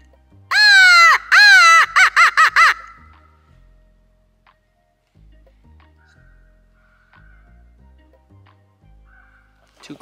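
A crow caws about half a dozen times in quick, loud bursts near the start, then only faint low background noise follows.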